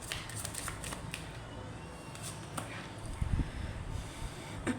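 Tarot cards being shuffled by hand, soft papery riffles and brushing slides in short bursts, close up and quiet, with no speech.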